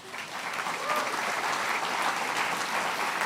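Conference audience applauding the board, a broad, dense wash of clapping with faint crowd murmur that rises quickly and holds steady throughout.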